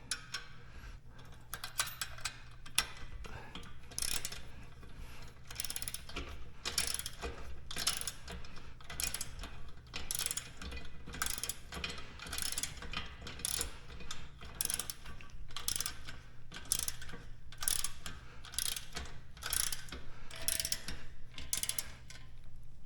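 Crescent and Allen wrenches tightening bolts on an Ultra Fuego UF-1186 home gym produce a steady run of quick ratcheting clicks in repeated bursts over a low hum, with no talking.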